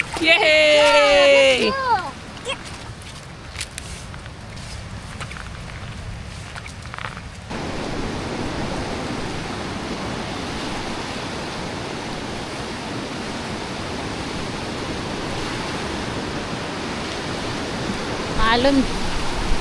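Choppy river water rushing in a steady, loud broadband wash at a riverside family outing, with voices and chatter heard early before the continuous water noise takes over.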